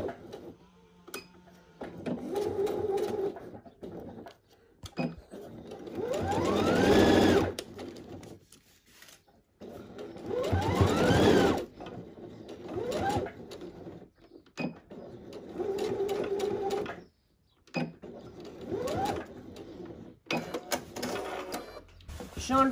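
A sewing machine stitches the corner of a fabric tote bag in several rapid, whirring runs of differing length, loud and close, separated by short pauses.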